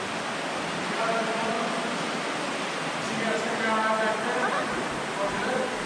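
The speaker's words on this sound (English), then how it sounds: "There's a river down here." Water rushes steadily in an underground river inside a large cavern, a continuous broadband roar with hollow resonance, while people talk faintly over it.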